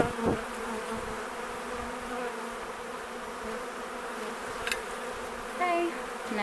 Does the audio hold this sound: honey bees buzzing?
yes